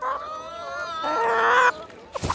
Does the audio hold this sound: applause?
no